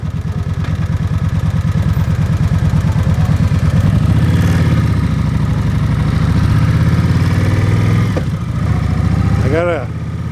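A motorcycle engine runs on a first ride of the season, a loud steady throb with slight rises and falls in revs and a brief dip near the end.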